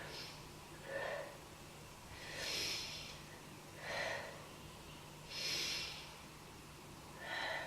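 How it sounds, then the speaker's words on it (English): Slow, deliberate breaths during a beginner yoga pose, four or five soft airy inhales and exhales spaced evenly, close and quiet with no talking. "Take 3 breaths here."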